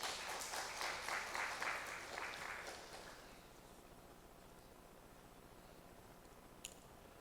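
Audience applause welcoming a presenter at a Korean public institutions innovation awards ceremony, a dense patter of many hands for about three seconds, then fading into quiet room tone.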